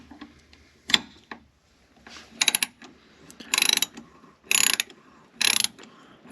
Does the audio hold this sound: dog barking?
no